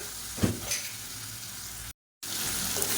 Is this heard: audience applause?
no